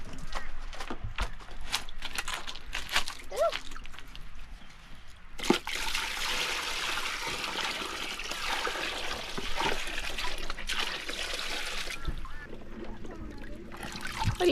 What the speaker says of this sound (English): Kai's filled up Louis' little tub for him so he can play and splash and get cool